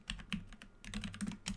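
A computer keyboard is typed on while entering a SQL command, giving quick close clicks in two short runs with a brief pause between them.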